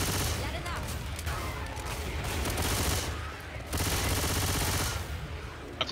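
Rapid, sustained gunfire in the zombie shooter Left 4 Dead 2: dense overlapping bursts of automatic and shotgun fire that run almost without pause for the whole stretch, loud and close, with a brief lull near the middle.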